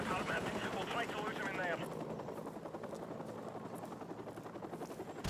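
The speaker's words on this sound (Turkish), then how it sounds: "Helikopter geliyor lan çabuk geçelim şuradan hadi." Helicopter rotor thumping in Call of Duty Modern Warfare Remastered, a steady loud drone amid game noise and scattered gunfire, with a player talking over it.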